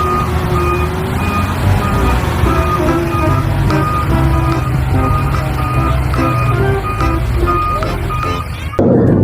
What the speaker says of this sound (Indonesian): Yang ini ada mobil dump truck